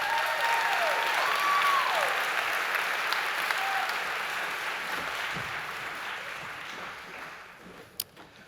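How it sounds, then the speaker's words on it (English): An audience at a high school spring choir concert applauds steadily, a dense wash of clapping that slowly thins and fades, with a few cheers early on and one sharp clap near the end. "Can we give them a round of applause?"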